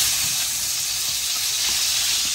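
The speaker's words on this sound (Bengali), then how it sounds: "একই তেলে আলুগুলো ভাজা করে নিচ্ছে।" Cut potatoes fry in the same oil just used for mrigal fish, giving a steady, even sizzle and hiss at close range that holds without a break throughout, with no voices.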